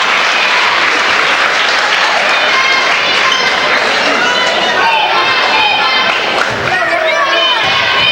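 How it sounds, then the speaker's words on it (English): Steady applause from a gym crowd for the bench at a girls high school basketball game between Odebolt Arthur and IKM, a dense continuous wash of clapping that runs the whole time with some cheering and crowd noise mixed in. "bench gets a good round of applause there"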